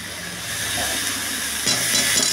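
Shredded cabbage drops into hot spices in a pan, setting off a loud, close, continuous hissing sizzle that swells sharply partway through.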